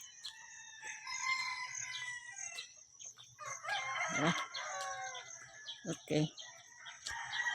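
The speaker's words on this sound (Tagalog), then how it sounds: "ayun, may mga manok." Chickens cluck and a rooster crows nearby, with overlapping calls in a quiet outdoor setting and a brief spoken word.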